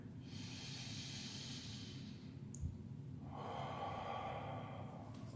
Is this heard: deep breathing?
yes